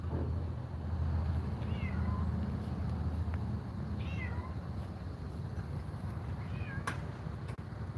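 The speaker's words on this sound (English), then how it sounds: "Look at this cat here. He's sitting there literally like, hey, somebody please feed me." A cat meows several times, the calls short and fairly faint over a steady background rumble of noise.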